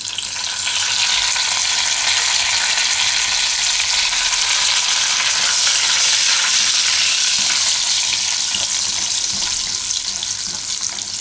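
Curry leaves sizzling in hot oil for a tempering for Gujarati green bean shaak, a loud, dense, continuous hiss and crackle right up close, steady for the whole stretch.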